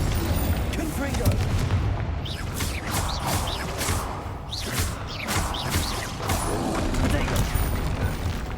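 Confringo blasting-spell explosions in the video game Hogwarts Legacy go off as a rapid series of loud, booming bursts, one after another, over continuous combat noise.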